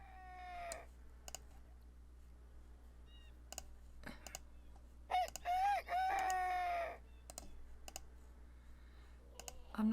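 A hen from The Sims 4 farm gameplay gives a short clucking call amid scattered game clicks and interface sounds, moderately clear against a quiet, humming background.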